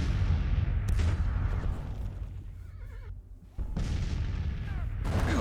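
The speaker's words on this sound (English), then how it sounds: "There, my guns seeing off their guns now." Civil War artillery booming in Grand Tactician: The Civil War, heavy cannon blasts amid a busy battlefield with horses whinnying and hooves clattering, several sharp reports punctuating the din.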